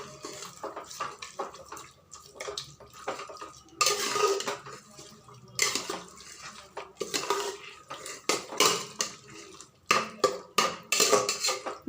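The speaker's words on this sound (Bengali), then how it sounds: "ভালো করে ধরে নাড়াচাড়া করতে হবে" Spoon stirs mutton inside a handi pot, scraping and clinking against the metal in repeated bursts, close and fairly loud with quieter gaps between strokes and no talking.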